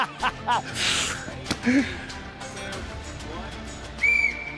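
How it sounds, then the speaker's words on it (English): A whistle is blown to start a game at a UFC 304 morning weigh-in show. A short, bright blast comes near the end, after scattered gasps, laughter and chatter. "going to whistle you to start this"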